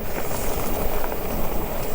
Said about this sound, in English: as you can tell, it's windy today